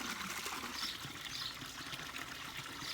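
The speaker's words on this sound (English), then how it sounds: "letting the water from the fountain run across the bandana" Water from a fountain runs steadily over a cloth bandana, giving a soft, continuous trickling and splashing close by, fairly quiet and without speech.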